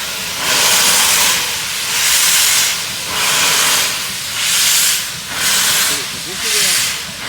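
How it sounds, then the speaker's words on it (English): Steam locomotive 80105 on a heritage railway platform, its open cylinder drain cocks venting loud rhythmic bursts of hissing steam, about six pulses in seven seconds, close by. "steam tiny cocks are still open."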